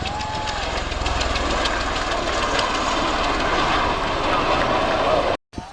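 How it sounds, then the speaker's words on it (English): A Marine Corps MV-22 Osprey tiltrotor from squadron VMM-774 roars past during a New York airshow demonstration, its rotors throbbing and engines droning loud and steady before the sound cuts out abruptly near the end. "they are here to show you the capabilities of this beautiful Marine Corps MV-22 Osprey"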